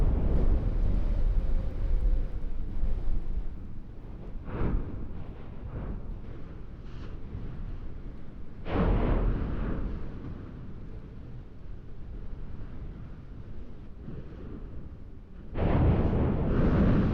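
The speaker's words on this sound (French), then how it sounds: "Toutes les 10 ou 15 minutes, une explosion secoue la montagne." The Stromboli volcano crater erupts with deep rumbling blasts in the open air at night, several swelling bursts rising out of steady wind-buffeted roar over a long stretch.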